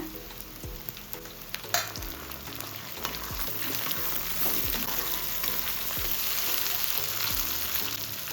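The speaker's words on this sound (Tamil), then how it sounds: "வெங்காயம் வதங்கிருச்சு ரெண்டு சின்ன தக்காளி சேர்த்துருங்க" Steady sizzling and crackling of onions and tomatoes sautéing in a pan for a tripe curry, with a few soft stirring knocks, no talking.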